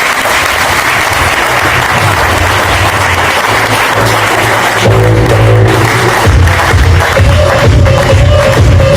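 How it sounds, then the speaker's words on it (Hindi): Audience applause fills a stage event at a business team gathering, steady dense clapping throughout that swells louder partway through, with crowd noise under it. "हम उसके लिए तालियां बजाएंगे जबरदस्त तालियों के लिए।"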